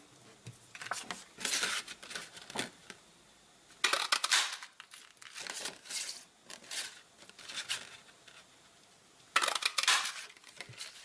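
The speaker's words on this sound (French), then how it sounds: "Donc je vais les découper maintenant avec la perforatrice coordonnée." Paper punch cutting daisy shapes from card, heard as several bursts of crunching and clicking at close range with quiet gaps between them and no talking.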